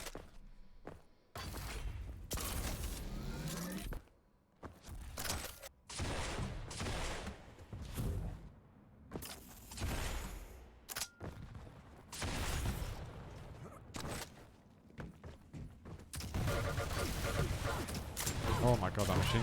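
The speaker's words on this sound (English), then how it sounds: "Oh my god, that machine gun." Rapid bursts of machine gun fire in a fast multiplayer shooter game, with repeated clusters of sharp shots and thuds. They are broken by short gaps and sit under continuous excited commentary.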